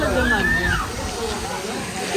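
A fountain jet at Mansar Lake sends water shooting about 30 to 40 feet into the air, giving a constant rushing, sloshing roar beneath a nearby voice talking.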